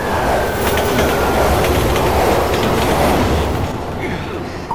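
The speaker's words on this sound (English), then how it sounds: "Train coming!" In the Resident Evil 6 game, a train thunders through an underground tunnel in a loud, steady rumble with rattling wheels and a faint squeal, fading slightly at the end.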